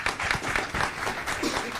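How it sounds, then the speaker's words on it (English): A crowd applauds for performer Bronkar Lee at a City of Light Atlanta gathering, a full, continuous burst of clapping with a faint murmur of voices underneath. "Let's give him a round of applause."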